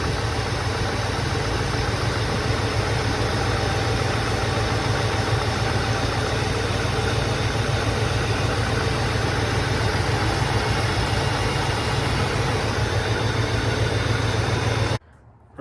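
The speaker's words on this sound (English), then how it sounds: "It took a long time to crank and then it started." A 1984 Mercedes 380SL R107 V8 idles steadily after a long crank following a fuel injector change, a loud, even engine rumble with a low hum that runs without a break and cuts off at the end.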